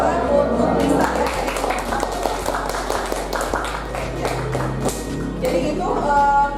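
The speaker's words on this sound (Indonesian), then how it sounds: "Tepuk tangan" Classroom audience clapping in a short round of applause, light and scattered, with voices mixed in.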